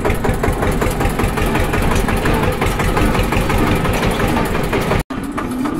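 A Swaraj 855 tractor engine runs steadily and loudly up close on a farm, a continuous rough mid-pitched chugging drone that cuts out abruptly near the end before resuming.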